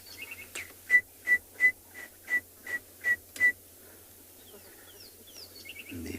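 Birds call at sunrise on an African safari: a series of about ten clear, evenly spaced whistled notes, then softer chirps and twitters from other birds at a distance.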